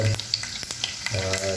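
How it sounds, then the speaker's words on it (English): Mustard seeds and peanuts in hot oil, heard as a close, continuous sizzle with a few quick pops and ticks scattered through a short stretch. "And okay, the mustard seeds are heating up. Once they start popping, it seems that's what it should be."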